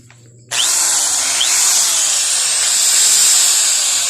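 Ingco 680-watt, 220-volt power tool switching on abruptly and running at a loud, steady high-pitched whine with a hissing edge, alone and close by.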